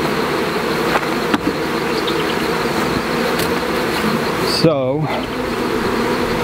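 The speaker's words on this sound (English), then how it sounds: "They're gonna come out on their own and go into the hive where the queen is at." Honey bees buzzing around a backyard homestead hive, a continuous close insect drone with individual bees passing near, and a brief spoken word partway through.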